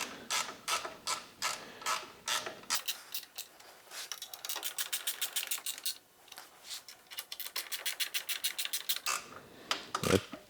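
A wrench snugs up a metric-thread bolt with an imperial hex head, giving quick bursts of close, crisp ratcheting clicks separated by short pauses.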